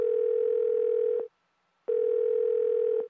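A telephone dial tone: two long steady tones separated by a short silence, loud and clean with no other sound.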